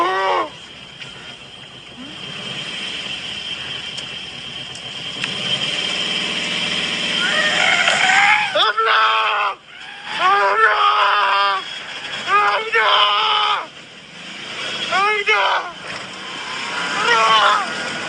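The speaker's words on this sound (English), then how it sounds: "they started hearing shrieking sounds in the woods all around them" Shrill, wavering shrieks ring out of dark woods at night, coming in repeated bursts in the second half over a steady droning background hum, loud and fairly close.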